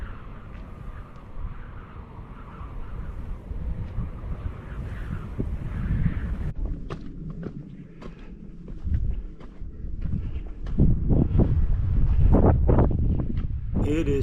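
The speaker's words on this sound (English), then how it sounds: "The wind's blowing up, 30 miles an hour, and it shakes you a little bit as you're going up." Strong gusting wind of about 30 miles an hour buffets the microphone on a steep, strenuous hiking trail in Capitol Reef National Park, Utah, a loud rushing roar that swells and surges in bursts, heaviest near the end.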